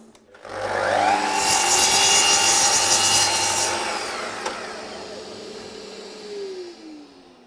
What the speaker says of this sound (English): a little bit of sandpaper just to take the furry stuff off